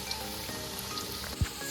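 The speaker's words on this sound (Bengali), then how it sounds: "চিকেনে আলুগুলো ভাজা হচ্ছে।" Potato pieces fry in hot oil with turmeric in a kadai for chicken curry, giving a steady close sizzle and crackle. A brief soft knock lands near the end, and no one speaks.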